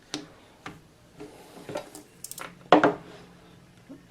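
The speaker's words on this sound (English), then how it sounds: "And now I'm going to dial the phone here" A 1955 Western Electric 500 rotary telephone dial clicks and whirs back in a few separate bursts of quiet ticking, with one sharper clatter near the end, close up in a quiet room.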